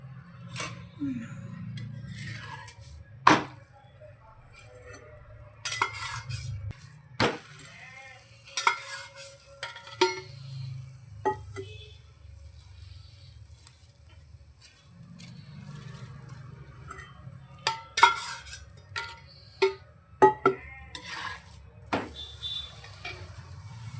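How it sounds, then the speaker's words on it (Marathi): Potato paratha roasting on a hot griddle with oil or butter, a faint low sizzle broken by sharp clinks and scrapes of a spatula pressing and turning it, close up, no talking. "ह्याला खरपूस आपण आता भाजून घेऊया"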